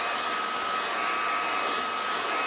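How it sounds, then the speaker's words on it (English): A vacuum cleaner runs steadily and loudly at close range as it sucks up leftover hair from a floor, a continuous whining roar with no breaks. "Let's vacuum that."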